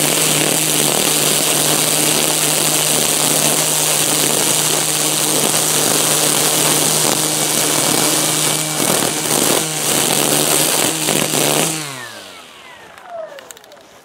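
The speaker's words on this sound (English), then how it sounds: "I'm going to string trim this section right here in economy mode" A string trimmer cuts weeds in economy mode with a loud, steady, high-pitched whine held close for about twelve seconds, then winds down and stops.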